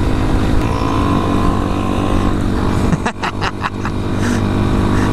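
A Honda Grom motorcycle engine hums steadily while riding, a constant buzzing drone with steady wind rush, briefly interrupted by a few sharp bumps or gear clunks partway through.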